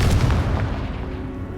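A Confringo fire spell in Hogwarts Legacy bursts with a deep, booming explosion that rumbles loudly and decays over about a second and a half.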